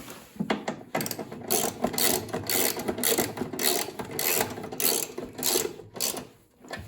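Ratchet and 3/8 socket clicking as a bolt is tightened on a snowblower, a rapid, uneven run of metallic pawl clicks in short bursts, close and fairly clear.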